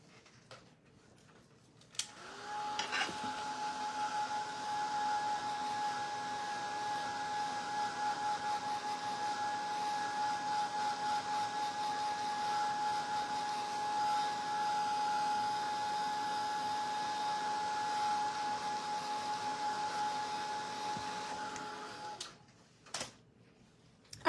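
A hair dryer dries paint on a fabric apron, a steady whining whir that runs close and unbroken for about twenty seconds, switched on with a click and off again near the end.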